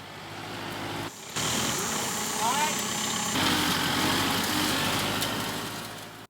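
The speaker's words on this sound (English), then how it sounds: "got in the tractor and started planting" A tractor engine runs steadily while it pulls a seeder planting a field in South Carolina, a continuous mid-pitched drone with a brief drop near the start, and people talk over it.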